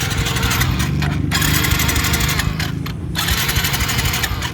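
A Suzuki Smash motorcycle with a hard-starting problem cranks repeatedly, a loud rough mechanical churning broken by brief pauses between attempts.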